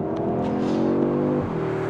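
A 2024 Audi S3 engine pulls hard under acceleration in Dynamique Plus mode, a steady rising drone with a brief gear-change dip near the end, heard from inside the car with no talk.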